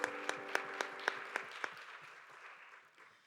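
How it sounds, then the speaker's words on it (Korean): A church congregation at a Sunday young adults' worship service claps together; a few sharp distinct claps stand out early, then the applause thins into a soft, fading patter that tails off. "서로를 향해 격려하면서 박수하도록 하겠습니다."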